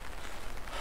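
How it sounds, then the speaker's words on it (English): Rain begins falling at a campsite, a dense, even hiss of drops pattering on surfaces that stays steady and fairly loud through the short stretch, with no voices. "I probably think you can hear that it's begin to rain."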